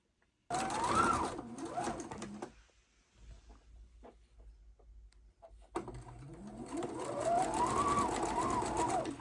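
Sewing machine stitching quilt block pieces for a star quilt block. Two bursts of loud rapid whirring are split by a quieter pause with faint handling sounds.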